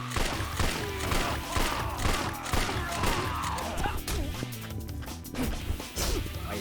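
Gunshots from a gun in the Yakuza 4 video game ring out repeatedly amid smashing and whacking impacts of a brawl, a busy sequence of hits at close range with little talk.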